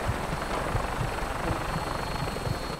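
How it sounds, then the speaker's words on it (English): Helicopter in a multiplayer video game, a steady rhythmic rotor thump with a droning engine hum, loud and close, continuing without talk over it. "I turned into the helicopter."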